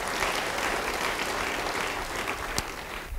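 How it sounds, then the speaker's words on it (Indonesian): A church congregation claps steadily and loudly, a continuous wash of applause that holds throughout with no voices standing out. "Yang percaya dan mau beri tepuk tangan bagi Tuhan."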